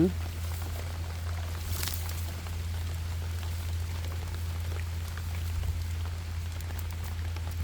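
Steady rain falls during mushroom picking outdoors, a continuous broadband patter with a low constant hum underneath, moderately loud throughout with one brief brighter splash near the start.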